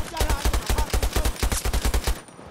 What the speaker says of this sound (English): Little 240 action? Nice little burst fire.